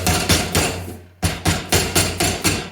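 Rapid, evenly spaced hammer blows ring on sheet metal being shaped into a brake cooling duct, each strike sharp and metallic with a short decay, about eight taps with a brief pause midway.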